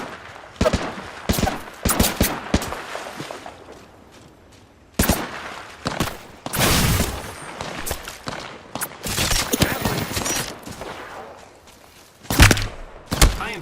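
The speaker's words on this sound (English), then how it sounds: "I am taking fire, friends" Bursts of gunfire aimed at the player during an Apex Legends match, rapid volleys and single shots cracking loudly in clusters with brief quiet gaps, plus a few thuds and footstep sounds.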